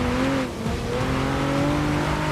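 A track toy race car, a road-legal machine built almost like a Formula car, driving in the Forza 6 video game, its engine droning loud and steady with gently rising and falling pitch over constant road noise.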